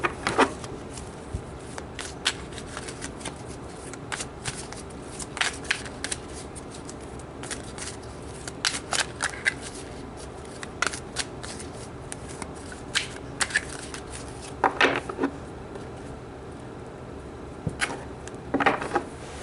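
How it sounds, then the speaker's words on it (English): Tarot cards are shuffled by hand in quick, riffling bursts, close and crisp, repeating with small pauses throughout and no talking. "let's pull some cards to see what needs to be healed"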